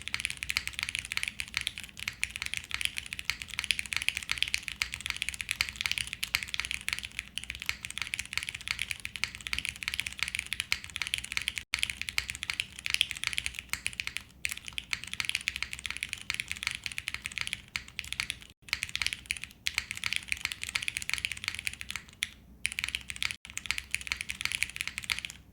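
Rapid, continuous keystrokes clatter on a Suisei themed mechanical keyboard, close and steady with only a few brief pauses, and no one talks.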